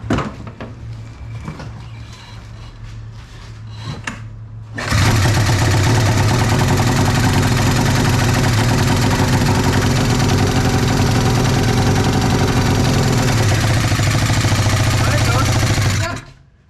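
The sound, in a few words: Arctic Cat snowmobile engine running and idling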